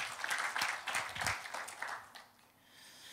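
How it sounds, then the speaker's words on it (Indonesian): Church congregation applauding during a sermon, a full burst of many hands clapping for about two seconds before it thins and trails off into quieter room sound. "Tepuk tangan yang panjang buat Tuhan."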